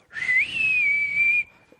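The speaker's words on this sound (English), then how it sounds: "I whistle" Person whistling a single clear sustained note that slides up at the start and then holds steady for over a second, close and alone.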